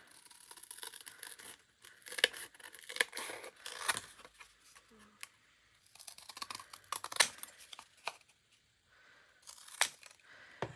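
Scissors snipping through paper or thin card for a window box craft project, a series of quiet crisp cuts and crinkles in irregular bursts with short pauses between.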